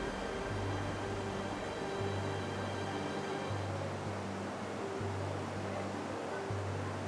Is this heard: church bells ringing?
no